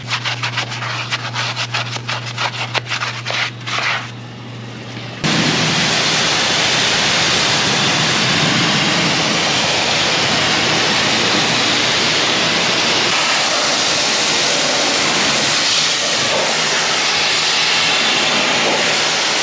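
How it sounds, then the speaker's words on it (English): High-pressure water spraying over a 1967 Lincoln Continental during a detailing wash: a loud, steady broadband hiss that cuts in after about five seconds of quieter, different sound and runs unbroken to the end. "So we did a decontamination pressure wash."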